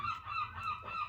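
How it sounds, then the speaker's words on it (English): Seagulls calling by the sea, a short, loud, nasal honking cry that repeats a couple of times close by, with no talking. "the seagulls like cheering it on"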